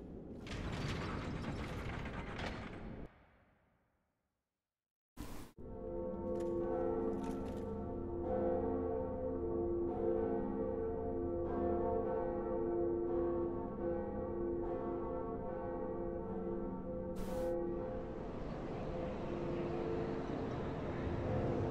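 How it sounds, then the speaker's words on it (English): In the video game Dark Souls, a bell-ringing mechanism grinds and ratchets with a steady metallic churn and layered bell-like drones, opening on a noisy burst before a brief silence, then running on continuously with sharp clanks near the start and late. "Ring the bell."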